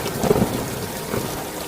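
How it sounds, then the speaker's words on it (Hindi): Heavy rain pours steadily on a village in an animated story, a dense, even hiss. A deep roll of thunder rumbles near the start, then the downpour goes on alone. "अरे भाइयों, ये बारिश तो रुकने का नाम ही नहीं ले रही है।"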